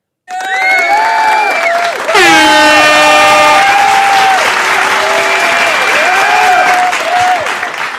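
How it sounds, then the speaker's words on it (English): Loud crowd applause and cheering fill the space, overlaid with sliding synthetic horn and whistle-like sound effects that sweep up and down, continuous and close. "let me give some good claps"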